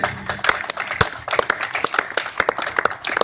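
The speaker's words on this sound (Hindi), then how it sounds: "जोरदार तालियां हो जाए।" A small crowd claps briskly and unevenly, close by, for a few seconds.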